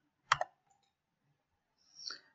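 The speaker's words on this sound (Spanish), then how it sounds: "Entonces hacemos clic donde dice Search." A computer mouse gives a sharp double click up close, quiet and isolated, followed after a pause by a faint softer rustle.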